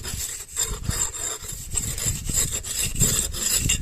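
An English jointing trowel is rubbed along horizontal brick mortar joints, making close, steady rasping scrapes in repeated strokes, with no talking.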